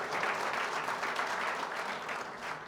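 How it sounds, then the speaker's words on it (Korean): Audience applause for members of the Busan-Ulsan-Gyeongnam megacity forum at a forum event, a steady, fairly loud burst of clapping from a crowd that holds for a few seconds without talk. "우리 부울경 메가시티 포럼을 지금까지 이어와 주신 우리 대표님을 포함한 포럼 회원들께 큰 박수 한번 좀 부탁드리겠습니다."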